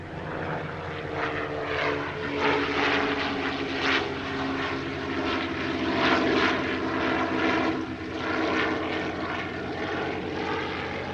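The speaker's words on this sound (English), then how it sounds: "Next up came another French transport aircraft, the Dassault MD-312 Flamand." A Dassault MD-312 Flamand, a French multi-engine transport aircraft, flies past at a warbird airshow, its propeller engines droning loud and steady throughout, swelling and easing slightly as it passes.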